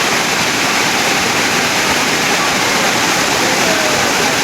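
Floodwater rushing around a covered court during a thunderstorm with thunder and lightning, heard as a dense, loud, unbroken roar of water with no pauses.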